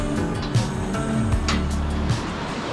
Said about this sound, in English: Oh, listen to that water.